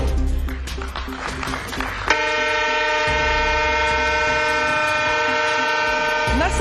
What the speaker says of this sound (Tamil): ராஜ்தானி ரயில் சேவையை கொடியசைத்து தொடங்கி வைத்தார்.